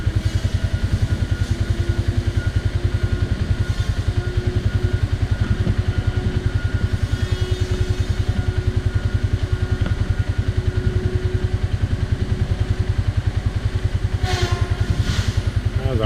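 A Kawasaki Ranger 1000 utility vehicle's engine chugs steadily while towing a heavy load through trash on a farm, a continuous close, low rumble with a faint clatter and a brief burst of higher noise near the end.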